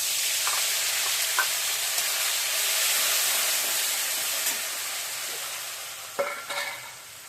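A paste of poppy seed, cashew and green chilli frying in a pan for a potol malaikari, giving a steady loud sizzling hiss throughout, with a couple of brief stirring scrapes near the end.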